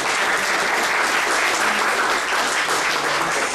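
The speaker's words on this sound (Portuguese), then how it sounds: "peço uma salva de palmas para ele, para vocês" Audience applause for a professor after a lecture, a close, loud, dense burst of clapping held evenly throughout a few seconds.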